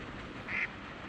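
A single short quack from a duck on a fishing lake rises briefly above a steady outdoor background hiss.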